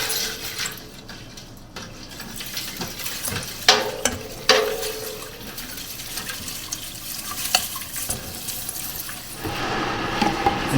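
Caustic soap flakes being stirred into liquid in a soapery, boiling at the bottom of the vessel: a continuous bubbling, sizzling wash with scraping stir noises and a few sharper knocks, moderately quiet and without speech.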